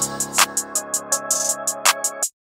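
Programmed hi-hat roll in an FL Studio trap-style beat, quick ticking hats with a few faster bursts riding over a sustained bass and melody layer, steady and fairly loud, cutting off abruptly.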